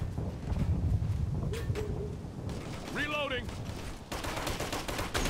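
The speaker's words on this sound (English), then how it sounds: "They're shooting at me!" Gunfire in the Operation Flashpoint: Red River military shooter, with dense crackling shots running throughout, partly under shouted voices and radio chatter.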